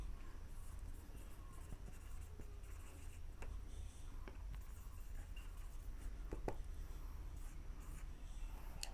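A pen or chalk writing out a grammar rule, soft continuous scratching with occasional light taps over a low background hum, quiet and close.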